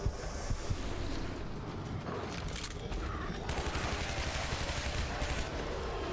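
Rapid gunfire from shooting an enemy in the game Shadow Warrior (2013), a dense, steady barrage of shots running the whole stretch with no talk over it.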